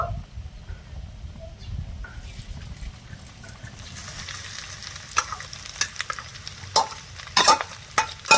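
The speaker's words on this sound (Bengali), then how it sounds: "ভালো করে নেড়ে ছেড়ে একটু মিশিয়ে নেবো" Three medium-sized boiled potatoes are stirred into a tempering of spices in a pan; a soft sizzle gives way to several scraping strokes of a spatula against the pan, growing louder and choppier near the end.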